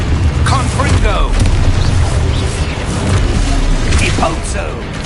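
A fire-blast spell explodes in Hogwarts Legacy, giving a loud, close booming burst with crackling debris, layered over continuous game ambience.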